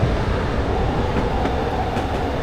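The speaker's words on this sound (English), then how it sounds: "Oh, steam train on the down line." A steam goods train rolls past on the down line of the Woodhead Line in a train simulator game, giving a steady, loud, continuous rumble of wheels and wagons with no pauses, heard alone with no talking.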